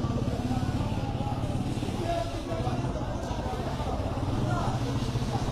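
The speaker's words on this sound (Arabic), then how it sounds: "احنا بنلف اهو زي ما انتم شايفين." A long motorcycle carrying five riders cruises along, its engine giving a steady, close low drone mixed with wind rumble for the whole stretch, with voices faintly audible underneath.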